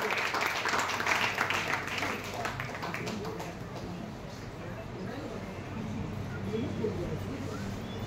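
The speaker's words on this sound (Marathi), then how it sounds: "त्यांचंही टाळ्या वाजवून जोरात स्वागत करायचं आहे" Audience clapping to welcome a guest onto the stage at an awards ceremony in a hall, steady applause with a rattling texture throughout and a voice over it.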